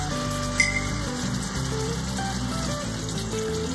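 Water pours steadily into an Instant Pot for a pot roast, a continuous close splashing and gushing that runs the whole moment without pause.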